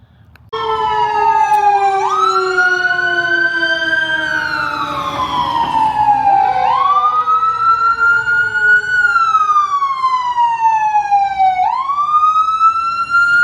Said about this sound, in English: Little fire truck and ambulance action here.